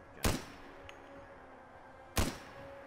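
Two loud, sharp gunshots in Fallout 4, roughly two seconds apart, each a sudden crack with a short ringing tail over a quiet background hum.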